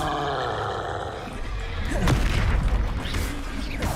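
Spell blasts in Hogwarts Legacy, a fiery Incendio and an explosive Confringo, land as a loud booming impact and rumbling crash against continuous battle noise, with a voice present.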